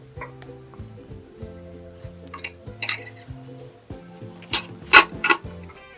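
Sewing machine stitching a blouse sleeve, with repeated mechanical whirring bursts of stitching that start and stop throughout, plus a few sharp clicks and rustles of fabric being handled. No one speaks.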